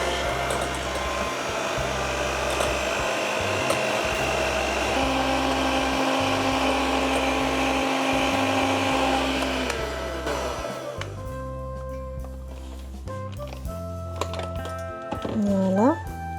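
An electric mixer at medium speed beating an egg with white sugar and muscovado sugar: a steady whirring motor drone for about ten seconds that then stops, followed by clinks and a brief rise.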